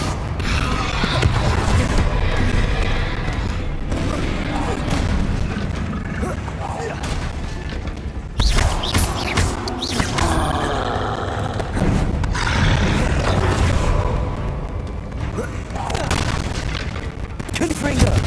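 Booming spell blasts and clattering impacts from the Hogwarts Legacy video game, coming in repeated bursts with a sharp hit near the middle, while a voice calls out over the action.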